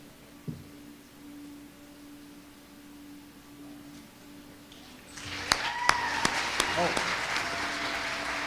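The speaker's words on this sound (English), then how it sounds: "How about a nice round of applause again?" An audience applauds award winners at a junior and senior division ceremony, the clapping swelling after a quieter stretch with a few sharp claps standing out, filling the room at moderate distance.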